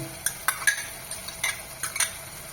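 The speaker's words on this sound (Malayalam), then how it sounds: "എന്നിട്ട് നന്നായിട്ടൊന്ന് വഴറ്റുക" Tomato, garlic and chopped green chili sautéed for rasam: a few sharp spoon clinks and scrapes against the pan over a soft, steady sizzle, no voices.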